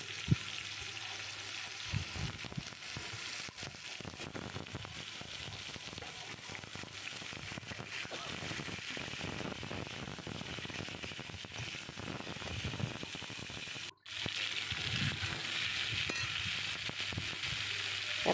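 Mango pieces frying in a hot pan with dried red chili, a steady crackling sizzle with stirring scrapes running throughout, briefly cutting out near the end before resuming.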